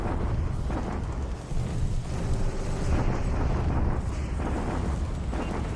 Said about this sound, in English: So what kind of damage can we deal here with a bombardment?